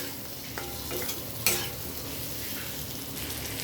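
Okra curry with tomato being stirred in a frying pan, a steady close sizzle with a few soft scraping strokes of the spoon, no talking.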